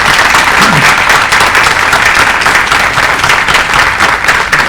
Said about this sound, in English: I would like to give a round of applause for our panelists for coming today.